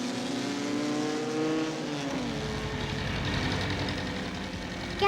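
A car passes close by with a steady engine roar that shifts pitch midway as it goes by, loud and alone with no talk.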